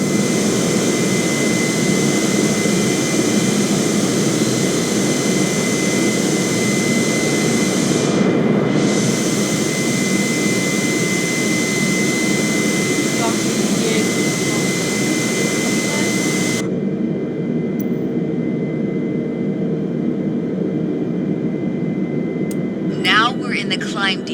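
A jet airliner's engines hold a steady, loud roar during the climb in Microsoft Flight Simulator, and near the end they fall to a quieter cockpit hum. A voice talks through part of it.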